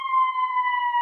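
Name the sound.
siren passing outside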